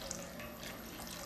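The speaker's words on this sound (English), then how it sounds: "So now I'm gonna hit it with just a little bit of water" A little water is poured into a pot of boiling dashi, giving a soft, continuous trickle and splash over the low bubbling of the stock. The sound is faint and steady, and no one talks over it.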